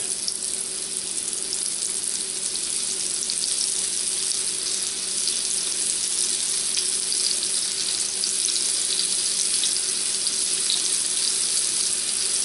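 Meat searing in hot oil in a pan to build a crust, giving a steady, loud, continuous sizzle and hiss with no talking.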